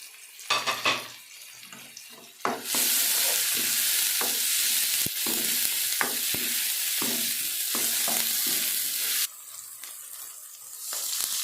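Loud, steady sizzling as tomatoes and green chillies fry in a hot pan for an egg and eggplant bharta, with a few stirring clinks and scrapes near the start and scattered throughout.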